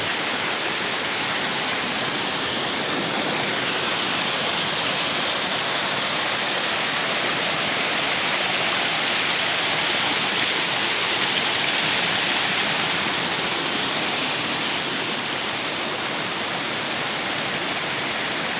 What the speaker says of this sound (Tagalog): Busay.